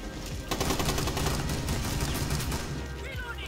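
Rapid, dense automatic gunfire from a Rainbow Six Siege match, sustained bursts filling the whole stretch at close range, with no talk over it.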